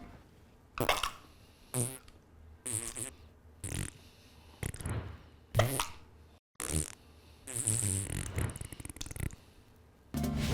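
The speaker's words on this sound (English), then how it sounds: "Silly Squirt is a ketchup bottle that's guaranteed to make a fart sound every time you squeeze it." A novelty ketchup bottle squeezed to make fart noises, sounding as a series of short, loud, sputtering bursts with brief gaps between them, mixed in with voices.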